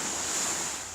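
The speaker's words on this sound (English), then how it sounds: "There's a soft wave coming in now." A soft sea wave washes in on a beach, a steady broadband hiss that swells slightly and then eases over one second, with no voices.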